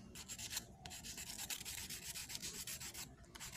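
Steady abrasive rubbing of sandpaper on plastic pipe, close and continuous with brief pauses between strokes, no voices.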